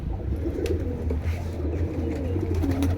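Male pigeons resting in loft cages coo softly and continuously, several overlapping low throaty calls close by over faint background noise.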